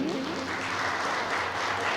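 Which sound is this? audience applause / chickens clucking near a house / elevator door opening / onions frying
audience applause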